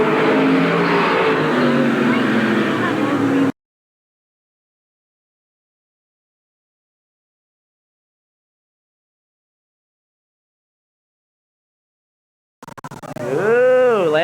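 Race cars roar at Eugene Speedway in a 1987 oval race, with a loud engine burst at the start, a long silent gap, then a sweeping revving pass at the end, and a commentator talking.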